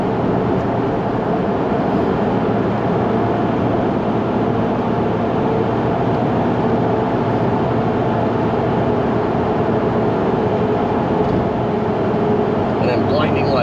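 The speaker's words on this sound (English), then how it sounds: "make car noises in the tunnel" An old BMW drives through a road tunnel with the window down, giving a steady, loud roar of engine, tyres and rushing air that fills the space without a break.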